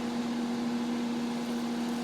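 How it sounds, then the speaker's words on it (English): A camper van's ventilation fan hums steadily with a constant low tone and broadband airy noise, unchanging throughout. "I'm just going to temporarily put the fan on. I know it's noisy"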